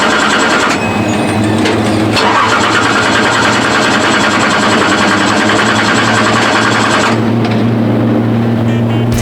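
Car engine cranking without catching at a riding school, a loud continuous whirring starter grind with steady mechanical drone that cuts off near the end, with no sign of the engine firing.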